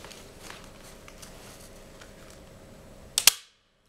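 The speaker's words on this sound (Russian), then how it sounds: "автомат отключился" A circuit breaker trips under a 160 A test current: a low steady hum ends in one sharp, loud mechanical snap, and near silence follows.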